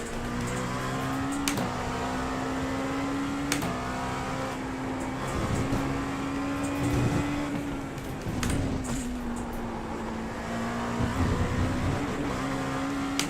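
An LMP2 prototype race car in iRacing at Road Atlanta drones steadily at high revs, its engine note rising and dipping through gear changes, with sharp shift blips standing out above the continuous roar.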